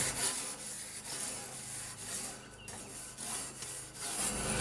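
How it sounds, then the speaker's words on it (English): A grill brush scrapes back and forth across a barbecue grill grate to clear burnt-on residue, giving steady, rhythmic rasping strokes heard up close and alone. "now I'm going to get in here with my brush and start scraping away"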